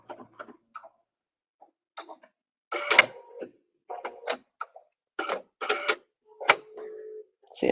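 An embroidery or sewing machine works in bursts of rapid mechanical ticking and clicking, then a short whirring snip as it cuts the thread, with quiet gaps between the bursts.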